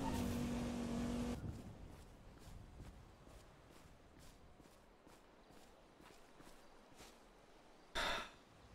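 A car in a GTA roleplay game revs loudly for about a second, then settles into a quieter engine hum under a steady rhythm of footsteps-like thuds, with a short burst of noise near the end.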